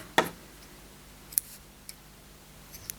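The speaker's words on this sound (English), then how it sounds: "So I'm actually going to cut that off." Scissors snip through crochet yarn with one crisp close cut, followed by a few faint light clicks in a quiet room.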